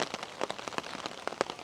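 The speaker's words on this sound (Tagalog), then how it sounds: "Sobrang lakas din kasi ng ulan." Heavy rain pours down on a trip near Mount Fuji in Japan, a dense, steady hiss with many close drop patters, loud and continuous with no talking.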